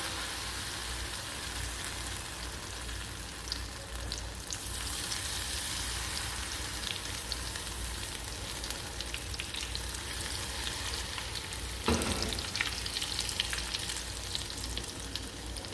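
Battered pieces of food sizzle and crackle steadily in hot oil on a stovetop in a Caribbean-style kitchen, a continuous dense fry with a brief sharper burst near the end, with no talking.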